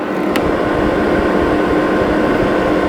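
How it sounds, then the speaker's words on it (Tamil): A cooling fan runs inside an Aryah steel-body 3500-watt induction stove, giving a loud, steady, close whooshing hum that holds even throughout with no talking. "இப்போ பார்த்தீங்களா ஃபேன் சத்தம் கேட்குதா பாருங்கள்"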